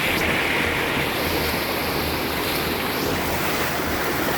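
River water rushes steadily on a mountain hike toward a waterfall, a dense, loud, continuous wash of noise with wind buffeting the microphone and no voices.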